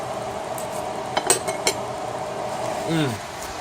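Cutlery clinks against a plate while a bite is cut from a sous vide steak: a few quick, close metallic taps and scrapes in a quiet room, then a brief squeaky scrape toward the end.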